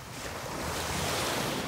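Ocean waves wash onto a beach, a broad close hiss of surf mixed with wind buffeting the microphone, swelling slightly over a couple of seconds.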